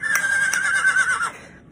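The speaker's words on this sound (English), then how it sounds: "There's a horse." A horse neighs loudly in a long, wavering whinny that holds steady for over a second before trailing off, with no other sounds around it.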